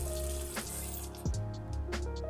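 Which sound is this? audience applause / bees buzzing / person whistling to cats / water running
water running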